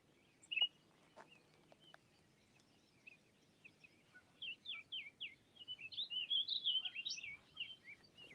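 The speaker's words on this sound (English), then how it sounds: "Did you guys hear that bird?" A bird near a river sings a rapid series of high, chirping notes, starting with a few isolated calls and then running into a continuous warbling phrase, clear against quiet outdoor background.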